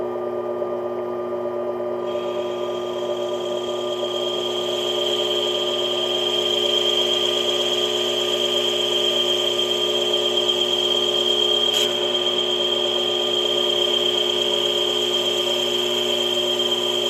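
A mini lathe cutting metal on a plunge cut, with a steady motor whine and a sustained high cutting tone running throughout, loud and close with no talk.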